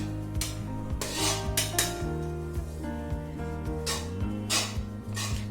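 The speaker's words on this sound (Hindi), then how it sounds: "अब हमें इसे थोड़ी देर के लिए भूनना है।" Desiccated coconut roasting in hot ghee for a Janmashtami dhaniya panjiri, with a spoon scraping and clinking against the pan in irregular strokes, close and clear over a steady background hum.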